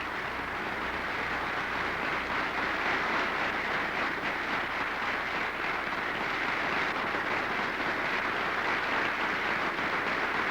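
An air show crowd applauds as a champion aerobatic pilot in a Pitts Special biplane is greeted, a dense, steady wash of clapping that holds at the same level throughout, with no voices heard.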